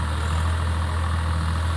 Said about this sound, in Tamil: இந்த மாதிரி ஒரு டிராக்டர் வந்து இந்த மாதிரி ஸ்மூத்தாக அடித்து கொண்டு போகிறது